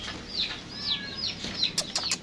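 Chirpy peeping calls from chickens and ducklings mixed with wing flaps and scuffling nearby, a few sharp brief clicks near the end.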